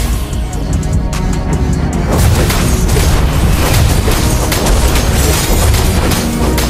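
A turret is destroyed in the Mobile Legends video game, a loud sustained booming explosion with crashing debris that fills the scene in a dense, roaring wall of sound.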